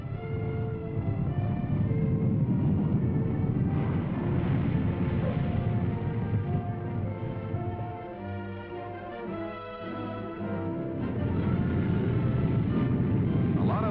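Lockheed Constellation propeller airliner of an airline fleet arriving, a loud continuous droning engine roar with steady tonal hum, easing briefly partway through before swelling again, heard from fairly close.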